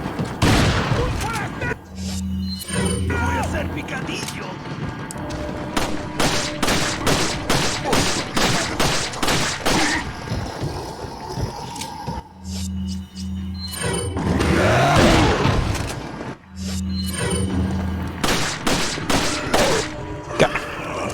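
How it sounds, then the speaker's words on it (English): Rapid pistol shots from Resident Evil 4 ring out in quick regular volleys, roughly a dozen sharp reports in each run, mixed with heavy thuds and impacts. "why are you using your pistol on him?"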